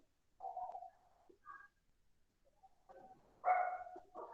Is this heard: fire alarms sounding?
no